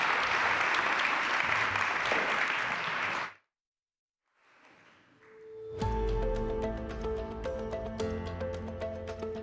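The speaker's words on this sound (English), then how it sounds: "Let's give them a round of applause." Conference audience applauding at a resilience-building event, a full burst of clapping that cuts off abruptly, followed after a brief silence by music starting up.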